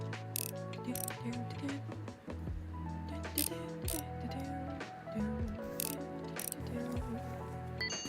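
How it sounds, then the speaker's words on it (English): A ratcheting screwdriver drives screws into a side panel, giving repeated quick clicking ratchet bursts in short bouts over a steady tonal background of music. "We'll get these screws in place."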